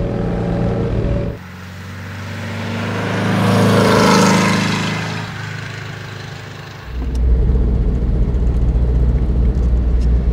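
A 1963 Porsche 356 B T6 Cabrio, tuned to about 160 hp, runs steadily with a low engine rumble that dips briefly, then swells into a louder, deeper drone, close and alone without speech.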